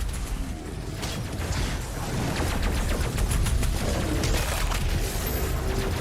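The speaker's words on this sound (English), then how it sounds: "You're in the middle of a battle. You got people shooting at you." Dense, continuous gunfire and explosive booms in a chaotic battle in the video game DOOM Eternal, loud and layered with whooshing mechanical effects throughout.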